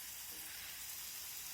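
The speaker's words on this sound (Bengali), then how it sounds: "বাকিগুলো একই রকমভাবে ভেজে নেব।" Kotkoti biscuits frying in hot oil give a continuous, even sizzle, close and steady from start to finish.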